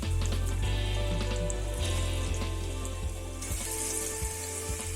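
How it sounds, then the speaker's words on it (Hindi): Egg-dipped chicken pieces for crunchy fried chicken frying in hot oil over medium heat, a loud continuous close sizzle with crackling pops and a steady low hum underneath. "ये अंडे में दोबारा डिप करने के बाद अब हम इसको जो है वो ऑयल में डाल लें फ्राई होने के लिए"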